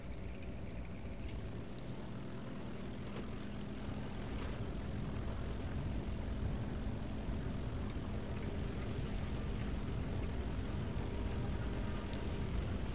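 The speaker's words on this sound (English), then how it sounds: "Let it get off the ground on its own, and it's barely getting off." Propeller engine of a J7W1 canard fighter droning steadily during takeoff in War Thunder, a continuous low hum with a faint rising tone and wind noise, fairly quiet and without talk.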